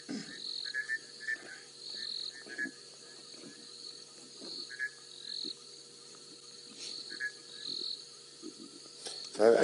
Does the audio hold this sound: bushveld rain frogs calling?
yes